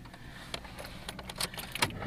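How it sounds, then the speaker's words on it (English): A car key jangles on its ring as it turns in the ignition of a 2006–2010 Ford Explorer. Close, bright metallic rattles and small clicks sound in quick succession inside the quiet cabin. "key turned on"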